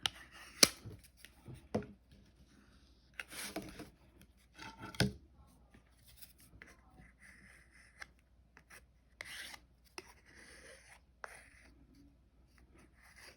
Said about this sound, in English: I'm just going to scrape the rest back in the jar